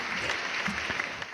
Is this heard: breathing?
no